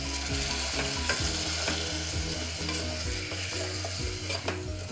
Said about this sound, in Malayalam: ഇപ്പോൾ 1/2 ഗ്ലാസ് വെള്ളം കൂടെ ഒഴിക്കാം.